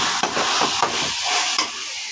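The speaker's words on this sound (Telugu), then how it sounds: "వేసుకొని బాగా కలుపుకోవాలి" A spoon stirs a chicken biryani mixture with mint and coriander in a pan, scraping with a few distinct strokes over a light sizzle, close and moderately loud.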